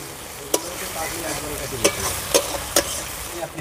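Ground spice paste sautés in oil for a village-style rohu fish poppy-seed curry, a steady sizzle broken by several sharp spatula scrapes and taps, close and alone with no voices.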